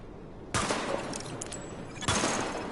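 Bursts of gunfire from a primary weapon in The Division video game as a target test runs, starting abruptly with a loud volley, a sustained rattle, then a second burst near the end, with no talk.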